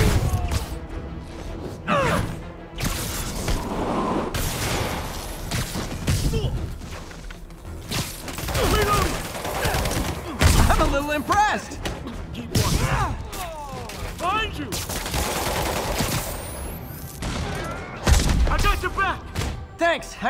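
Bursts of gunfire and crashing impacts in the Marvel's Spider-Man Remastered video game come in irregular volleys over twenty seconds, mixed with whooshes and voices shouting in the fight.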